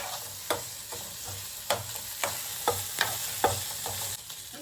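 Chicken pieces stirred and fried in a pan for a chicken omelette, a steady sizzle broken by several sharp scraping stirs at irregular intervals, close and moderately loud with no voices.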